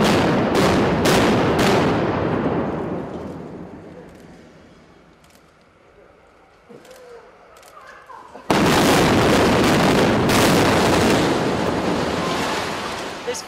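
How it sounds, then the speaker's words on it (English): Demolition charges bring down a building in Athens: a rapid string of loud blasts opens into a long roaring rumble of collapse that fades, then a second sudden burst of heavy roaring debris noise. "A series of loud explosions followed by a crumbling structure and lots of dust."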